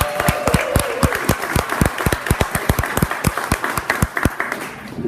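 Steady comedy show audience applause with dense, rhythmic clapping that stays loud and close throughout, without any voices on top.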